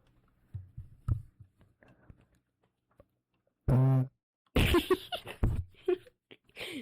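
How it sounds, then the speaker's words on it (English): A single short, low burp during a Twitch gaming stream, coming out loud and close between sparse quiet speech and mouth noises. "I just burped."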